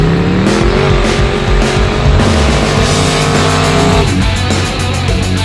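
Loud, continuous engine roar from a car doing burnouts, with sustained tire squeal and rising revs throughout, close and alone with no talk.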